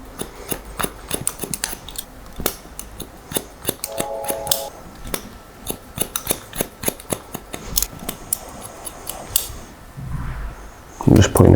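Scissors snip hair while a wispy, textured fringe is cut, producing a rapid series of crisp, close metallic snips with brief pauses and a rustle near the end.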